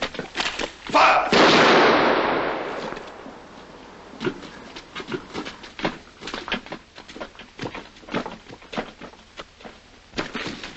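A firing squad's rifle volley in a 1946 period film bursts out loud and dense for about two seconds, then fades into scattered thumps and rustling movement.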